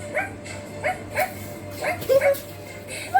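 A small pet dog gives a series of short, high yips and barks at close range, spaced irregularly over a steady low hum, with a brief whimpering tone near the end.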